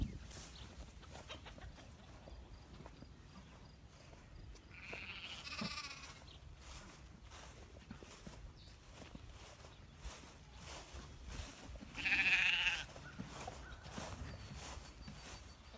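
Sheep bleating on a small farm where roosters roam, two short distant calls separated by several seconds over quiet outdoor background.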